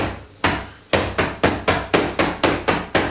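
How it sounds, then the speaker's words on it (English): Flamenco dance footwork stamping, a string of sharp, loud percussive strikes close by that start sparse and then fall into a quick, even rhythm of about a dozen hits. "every footwork articulation, every footwork sound that you make."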